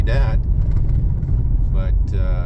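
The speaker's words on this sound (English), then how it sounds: "here's Mr. Johnson in his little Geo scooter" A small Geo car's engine rumbles steadily as it passes close by, with short bursts of people talking over it.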